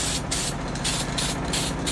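Clear coat sprayed from a Diton Premium aerosol can onto a Mio Sporty motorcycle body panel, heard as close, loud hissing bursts in short repeated sweeps with no talk.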